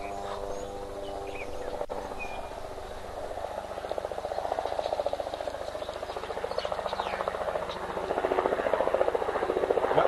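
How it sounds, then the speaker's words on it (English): Sightseeing helicopters fly over Victoria Falls, a steady rotor drone with fast pulsing that swells gradually louder, heard from a waterhole amid faint outdoor wildlife ambience. "those helicopters are all part of the activities to see the Victoria Falls fly"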